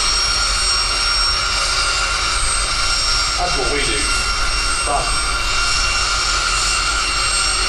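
A jet dragster at Santa Pod drag racing during a festival of power event roars as a loud, continuous broadband blast with a harsh high hiss, while people talk over it briefly.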